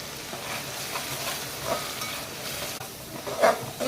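Fish curry masala sizzling and being stirred in a pan, a steady close frying hiss with scraping stir strokes and a brief louder clatter near the end, no voices.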